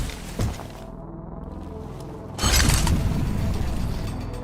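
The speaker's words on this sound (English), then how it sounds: "had to spin a gumball machine" A gumball machine in the Roblox game Ink Games is spun, giving a quick click, then a steady mechanical ratcheting whir that grows loud and keeps going to the end.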